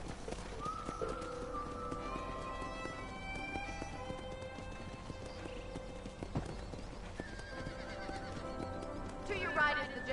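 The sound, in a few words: horses clip-clopping and neighing, Red Dead Redemption video game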